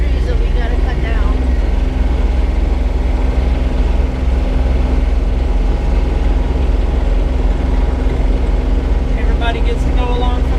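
An old-school diesel engine idles with a steady, heavy low rumble that holds unchanged throughout, while people talk nearby.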